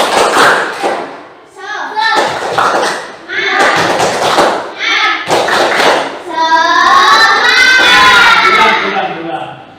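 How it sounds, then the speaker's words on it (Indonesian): Children in a classroom do a spirit clap: bursts of loud, rhythmic group clapping in short patterned rounds, ending in a sustained shouted group chant. "Ayo, tepuk semangat dulu."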